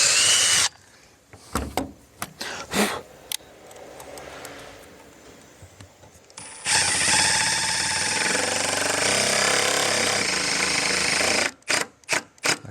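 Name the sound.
drill boring a bigger hole with a 9/64 bit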